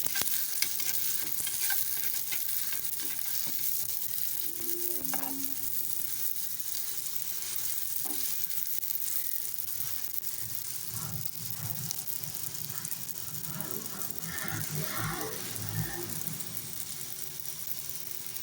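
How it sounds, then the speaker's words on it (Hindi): Paratha frying in ghee on a pan, a continuous close hissing sizzle that stays even throughout, with a few faint scrapes and knocks partway through. "हमने घी डाला है। किनारों तक से अच्छी तरह से सेक लेंगे"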